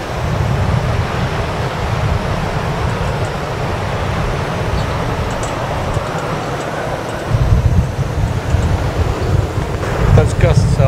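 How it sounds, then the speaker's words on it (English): Continuous roaring wind gusting to about 48 knots buffets the microphone on a sailboat at anchor, with heavy low rumble that surges stronger in gusts toward the end. "And then these gusts just come ripping through."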